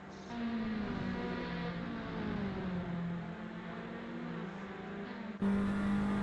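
Race car engines in Assetto Corsa Competizione racing at Bathurst, with a car running into the gravel: a loud, steady engine drone with shifting pitch throughout, jumping louder near the end as another car sweeps close.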